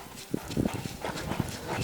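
A horse trots in a reining arena, its hoofbeats a quick, steady clip-clop on soft ground, moderately close, with faint background noise and no talk.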